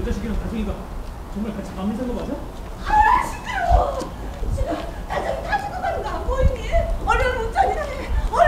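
A dog barks and whimpers near a hanok village in Korea on a snowy day, its yips and whines surfacing among nearby people talking and chuckling.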